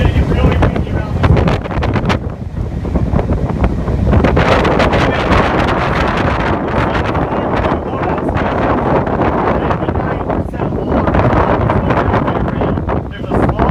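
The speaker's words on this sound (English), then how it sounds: "It's going to get really windy around this." Strong wind gusts roar across the microphone outside an ethanol plant's corn dryer house, a loud, steady buffeting rumble with fluttering bursts that never lets up.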